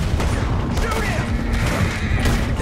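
Loud, dense gunfire in Red Dead Redemption 2 cracks and booms through a chaotic shootout, with a continuous barrage of overlapping shots and voices shouting over the noise.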